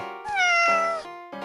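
A cat in the game Shroud of the Avatar gives a clear, drawn-out meow with a falling pitch, followed by a shorter second cry, close and alone.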